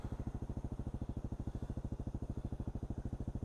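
A motorcycle engine idles steadily after a ride on a hot day, its even, rapid thumping pulses loud and close with no other sounds.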